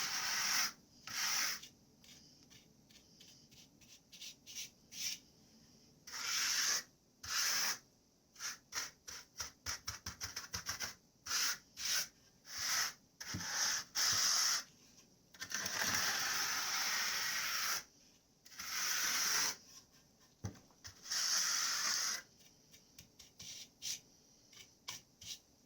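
A trowel scrapes and rubs across sand and cement mortar on a shower pan, smoothing out ripples in repeated short strokes and a few longer sweeps, close and alone with pauses between passes.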